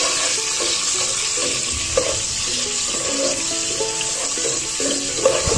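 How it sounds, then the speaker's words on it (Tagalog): Chopped tomatoes sizzling in a pan for pork kaldereta, a constant close hiss of frying with scattered scraping and clinking from stirring layered on top. "Tapos, ilagay natin yung kamatis."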